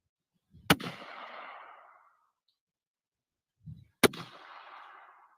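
Two loud gunshots from the left and then the right barrel of a double-barrel gun, each a sharp crack with a decaying echo, about three seconds apart, with quiet between them.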